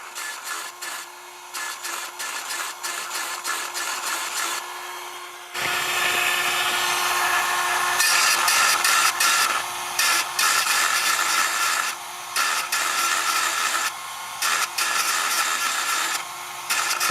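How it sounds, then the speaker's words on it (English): An Echo chainsaw chain being hand filed, with steady, close scraping strokes that rasp in repeated bursts and brief pauses, grinding on alone with no talking. "I'm just going to hand file that, touch it up"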